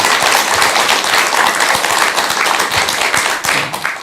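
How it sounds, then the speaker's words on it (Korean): An audience gives loud, sustained applause of encouragement, a dense and even roar of clapping that carries on at full strength until it eases slightly near the end. "다시 힘내시라고 큰 격려의 온 박수 부탁드리겠습니다"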